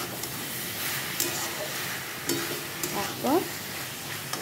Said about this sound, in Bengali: সমস্ত মশলাগুলো দিয়ে এবার আমি একটু কষিয়ে নিচ্ছি।